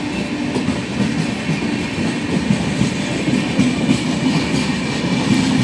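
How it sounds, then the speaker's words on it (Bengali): The Howrah–Digha Tamralipta Express rolls past heading toward Digha, a loud, steady rumble of wheels and clattering carriages held close up without a break. "এটা হাওড়া দীঘা তাম্রতীর্থ এক্সপ্রেস"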